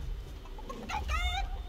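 Chicken clucking in the video game Fortnite, a short run of clucks and squawks heard over low background rumble, moderately close, with no talk.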